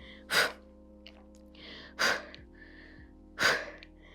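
Three sharp, forceful exhales during an abdominal exercise in a morning posture workout, evenly spaced about every second and a half, close and breathy over a quiet background.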